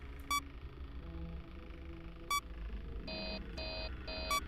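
A video game's ventilation error alarm beeps: short electronic bursts ring out near the start and middle, then a louder run of rapid pulsing beeps closes the clip over a low background hum.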